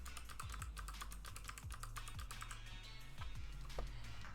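A very noisy computer keyboard rattles under quick, continuous typing, the keystrokes close and crisp in a busy irregular stream, with no one talking over it.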